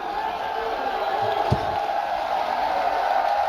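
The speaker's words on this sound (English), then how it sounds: "The crowd love that." A large arena crowd at the Dota 2 Boston Major grand final between OG and Ad Finem keeps up a steady, loud roar of cheering throughout, with one brief louder burst near the middle.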